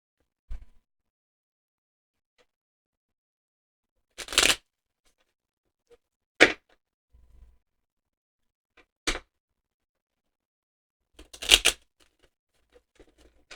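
A small cat-themed tarot deck is shuffled in several short, separate bursts of card riffling and tapping, with long quiet gaps between them and faint knocks in between.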